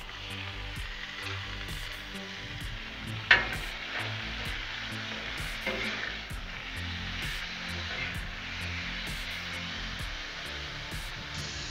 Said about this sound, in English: I love that sound, that sizzle sound.